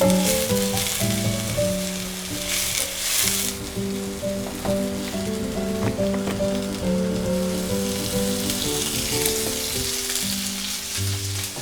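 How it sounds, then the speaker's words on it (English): Onions softly sautéing in a pan for beef birria, with a steady close sizzle and frying crackle that continues throughout, joined by occasional stirring scrapes. "You give a lot of attention and getting a nice soft saute or sweat on the onion."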